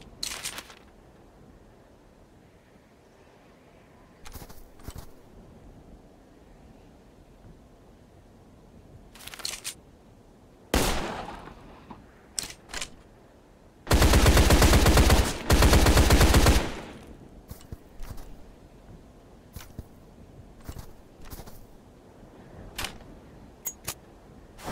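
Gunfire in the video game Deadfall Adventures, aimed at rocks: scattered single sharp shots across the stretch, building to a dense, loud sustained burst mid-way, then more isolated shots trailing off, with no talking.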